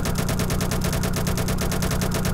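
Rapid automatic gunfire from a video game rattles on without a break, a dense run of evenly spaced shots. No voices are heard.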